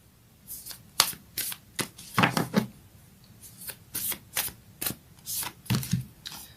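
A Moonology oracle card deck is shuffled by hand in a quiet room, a run of about a dozen quick riffling bursts in an uneven rhythm, close and crisp with no talk.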